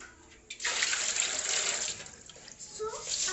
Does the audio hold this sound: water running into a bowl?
yes